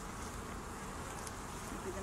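Honeybees at an apiary in public gardens, making a steady, dense, continuous buzz that fills the air close by with no breaks.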